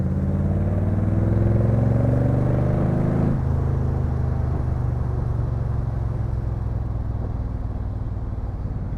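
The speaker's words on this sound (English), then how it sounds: "The exhaust system on this car is the same original 4-into-1 style side pipes" A Crendon Cobra replica car's engine roars through original-style 4-into-1 side pipes, rising in pitch under acceleration. After a shift it settles into a deep, steady rumbling cruise, loud and close throughout.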